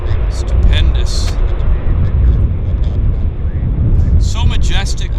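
A Lufthansa airliner at Vancouver International Airport (YVR) gives off a steady, loud broadband roar that runs the whole time, with people talking over it.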